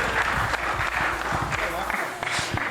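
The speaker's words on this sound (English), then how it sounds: "Give Olvi a round of applause." An esports championship crowd applauds a player for a first title, with mid-level clapping throughout and a voice talking over it.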